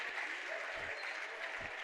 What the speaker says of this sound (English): The crowd here at Eastern Arizona appreciating the 45-point night for Rabowen.